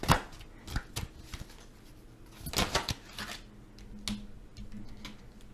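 Tarot cards being shuffled close up, with irregular bursts of riffling and soft slaps of the deck, no talking.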